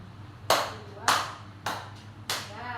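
A group at a school gathering claps in unison four times, evenly spaced sharp bursts about half a second apart over a low hum.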